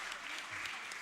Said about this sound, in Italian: Un altro forte applauso per i nostri festeggiati.